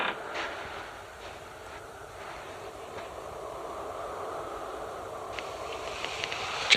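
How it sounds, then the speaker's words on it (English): Steady wind blows outdoors at night, a soft continuous rushing broken by a few faint creaks, moderately quiet and alone with no talk. "Just the wind."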